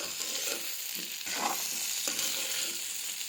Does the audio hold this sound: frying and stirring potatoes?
yes